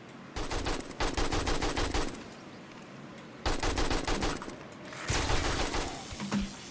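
Rapid automatic gunfire in the zombie survival game 7 Days to Die, three loud sustained bursts of rattling shots separated by brief pauses.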